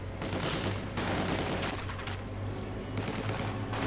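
Continuous submachine gun fire and distant battle noise in a WWII strategy video game, dense rattling bursts forming a loud, unbroken wall of gunfire.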